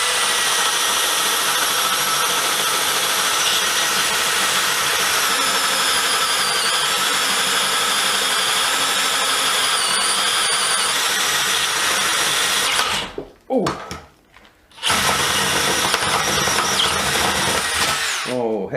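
A DEWALT 12V brushless DCD701 cordless drill runs continuously at high speed in drill mode, loud and close, then cuts out briefly before whirring up again.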